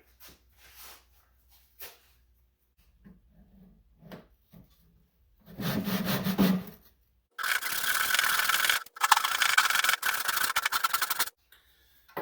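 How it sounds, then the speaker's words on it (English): A Lie-Nielsen dovetail saw cuts into wood in short bursts of rapid rasping strokes, close and fairly loud, between quiet pauses with a few light taps and handling sounds. "I'm going to go with the Lie-Nielsen dovetail saw"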